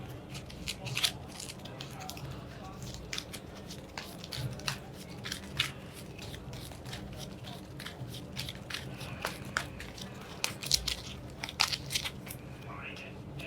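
Playing cards for the solo tabletop board game Monumental are shuffled in quick, crisp riffles and soft snaps, a quiet, continuous patter of card noise close to the listener.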